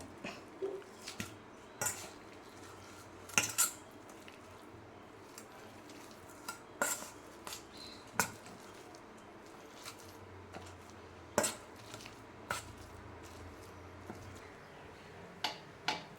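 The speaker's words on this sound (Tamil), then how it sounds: "இப்போ அதை நல்லா உருளைக்கிழங்கு மசிச்சுக்கலாங்க" Boiled potatoes mashed in a pot for a potato masala, heard as scattered utensil knocks and scrapes against the vessel, moderately close over low kitchen background noise with no talk.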